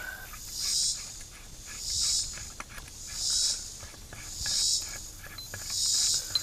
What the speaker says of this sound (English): Those insects you hear in the background are 17-year cicadas.